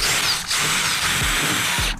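Power drill driving self-tapping screws into aluminum for a solar panel rack, a close, steady high whine with brief dips as the screw bites, ending abruptly.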